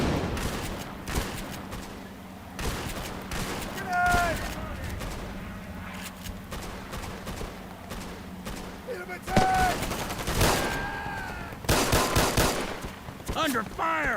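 Gunfire in the Easy Red 2 war game, soldiers crawling and pinned under fire: scattered sharp shots and short bursts, some near and loud, others further off, with voices talking over the fight.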